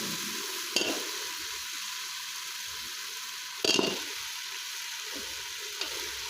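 Beef trotters frying in ghee with a cooked-down masala give a steady, loud sizzle, broken by a few sharp scraping knocks as they are stirred in the pan.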